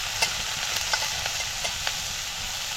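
Soaked masoor lentils sauté in a pan of spice masala with garam masala and turmeric, giving a steady close hiss of frying with a few light scraping clicks, and no voices.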